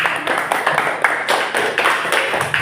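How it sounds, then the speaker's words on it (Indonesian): Audience applause from a group at an Islamic-themed class presentation, a dense crackle of many hands clapping steadily and fairly close for the whole stretch, with small swells and no talk over it. "Oke, tepuk tangan untuk kita semua."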